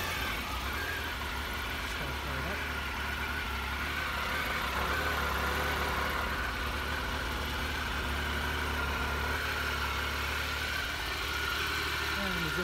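A 2001 Triumph Sprint RS 955i motorcycle engine idling steadily after start-up, a constant low rumble with a faint whine on top, close and unchanging throughout.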